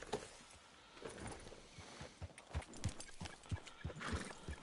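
A horse in a Wild West cowboy video game clip-clops in a steady walking rhythm, the hoofbeats sharp and close, growing more distinct toward the end.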